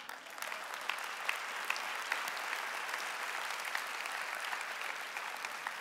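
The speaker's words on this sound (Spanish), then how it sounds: "Dar un aplauso al Señor." Steady applause from a church congregation during a sermon, dense clapping sustained evenly from start to finish at moderate distance, with no voices over it.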